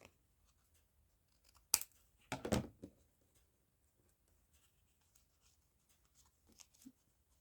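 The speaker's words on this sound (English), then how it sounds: "And cut it into a tag shape." Scissors cutting paper into a tag shape in a quiet room, heard as a couple of short, crisp snipping bursts close by, followed by a faint rustle near the end.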